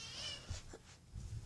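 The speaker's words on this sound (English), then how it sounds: "meet my kitten, Jackie, if you guys could ever see her." A kitten meows a few times, short thin cries over a steady high whine and low background rumble, with no one speaking.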